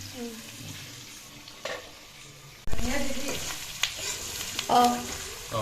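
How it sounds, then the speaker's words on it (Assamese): Onions frying with pork in a pan cooked without oil, stirred with repeated scraping clatters over a continuous sizzle that jumps louder midway, close and without talk. "add onion and stir."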